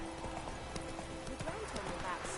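Hooves of Roach, a horse in The Witcher 3 set around White Orchard, clip-clop in a steady rhythm with occasional snorts, heard under continuous talking.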